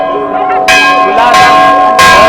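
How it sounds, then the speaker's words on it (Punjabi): Temple bell ringing steadily during aarti at Badrinath temple, a loud, sustained metallic clang with bright ringing overtones, struck repeatedly with fresh strikes at intervals and no talk over it. "ਇਸ ਟਾਈਮ ਆਰਤੀ ਹੋ ਰਹੀ ਹੈ ਅੰਦਰ ਇਸ ਕਰਕੇ ਘੰਟੀ ਵਜਾਈ ਜਾ ਰਹੀ ਹੈ"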